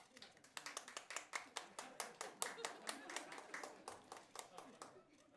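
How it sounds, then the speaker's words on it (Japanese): Audience clapping to judge a face-off debate at a Basement Monster Oji event, a quiet, steady run of distinct individual claps about a dozen strong in an even rhythm, heard alone without talk. "拍手をお願いいたします。"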